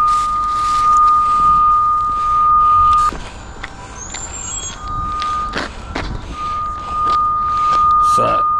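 A utility locator receiver used on a natural gas line emits a steady electronic tone that runs across most of the clip, broken by a short gap, with faint outdoor background noise and clicks.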